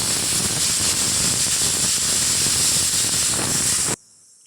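A pressure cooker whistle on a kitchen stove blasts a loud, steady hiss of escaping steam for about four seconds, then cuts off abruptly into near silence.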